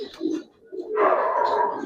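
Silver Giribaz pigeons coo close by, a low throaty call followed by a louder, fuller burst of cooing, with no speech.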